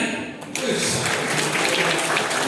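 Applause rises abruptly from a crowd at a parish farewell-and-welcome gathering for priests, steady clapping that continues after a brief quieter start.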